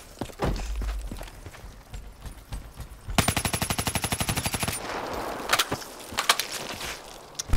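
Gunfire from the video game Black Ops 3, heard as a rapid burst of evenly spaced shots lasting over a second, followed by scattered single blasts and game effects.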